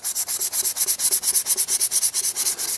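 Axe head scrubbed with steel wool and Windex, a rapid, even back-and-forth rasping repeated about eight times a second, close and loud with no talking.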